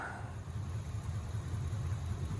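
A 1949 Allard P1's Ford V8 engine idles with a steady low rumble, a deep continuous burble with no revving or voices.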